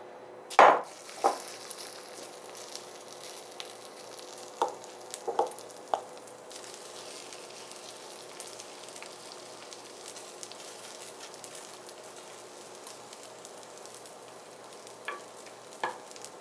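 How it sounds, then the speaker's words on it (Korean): Leftover egg batter from king oyster mushroom jeon frying in a pan, a low steady sizzle under a few sharp clacks of a utensil against the pan, near and without talking. "그 계란물 남은 거를 맛있게 또 부쳐보도록 하겠습니다"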